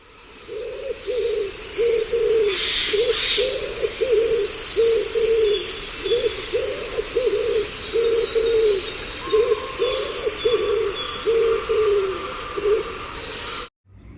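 Repeated low pigeon-like cooing phrases in a steady rhythm, with higher bird chirps scattered above, outdoors at moderate distance.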